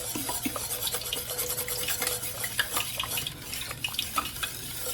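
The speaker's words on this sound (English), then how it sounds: "Just keep stirring and keep adding." A utensil steadily stirs a thickening mixture in a pan while ingredients are added, a continuous scraping and slopping with faint sizzling underneath.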